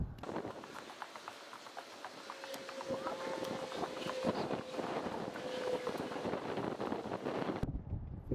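Wind gusts across an open dock at Meaher State Park in Alabama, a steady broadband rush with buffeting on the microphone that stays fairly constant throughout before dropping away sharply at the very end.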